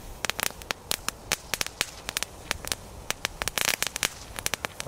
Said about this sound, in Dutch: Hoe zijn de knetterlinten dit jaar?